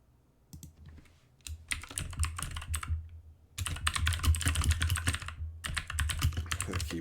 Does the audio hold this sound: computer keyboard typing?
yes